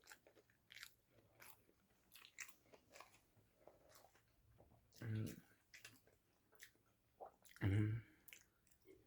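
Someone chews a Flaming Hot Cheetos-coated corn dog with cheese: soft wet bites and crunches, two louder crunches standing out, close to the mouth with no speech.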